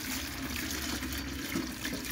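Water mixed with diluted urea fertilizer pours steadily into a watering can, a continuous close splashing and gurgling fill that runs alone without talk.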